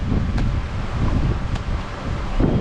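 Strong wind at a beach in Samoa rumbles and gusts against the microphone, with brief rustling and no voices.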